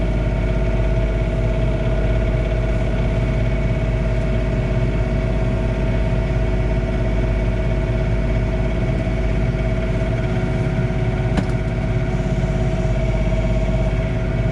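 A John Deere 3046R cab tractor fitted with a snow blower runs at night, its engine droning steadily and loudly nearby with a deep continuous rumble and a faint click near the end.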